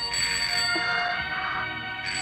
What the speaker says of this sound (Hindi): टेलीफोन की घंटी बज गई